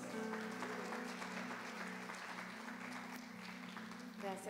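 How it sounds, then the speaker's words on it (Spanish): A church congregation at a women's gathering claps together, with a sustained wash of applause over a steady low musical hum, and voices and some instrumental notes rising toward the end. "un aplauso para nuestro Dios."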